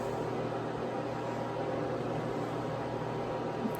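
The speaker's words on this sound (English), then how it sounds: "I have the eggs cooking right now in the boiler." An electric egg cooker steaming eggs, giving a steady, even hiss and hum with no breaks, moderately loud and close.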